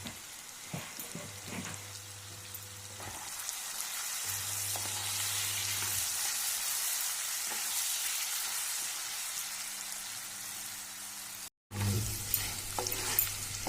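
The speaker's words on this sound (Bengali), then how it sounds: "পরিমাণ মতন লবণ আর হলুদ দিয়ে আলু লাল লাল করে ভেজে নেব।" Cut potatoes fry in hot oil with salt and turmeric, a steady close sizzle with occasional stirring scrapes and low hum from the stove, no talk.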